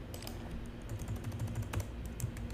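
Rapid keyboard typing on a computer keyboard, a steady run of close, light key clicks with no talking.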